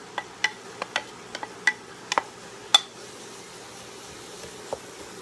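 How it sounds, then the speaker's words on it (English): Chopped onions and celery cook in melted butter, giving faint, scattered pops and crackles with a quiet background hiss and no talking. "Butter that I'm melting, and I'm going to go ahead and add the onions and celery"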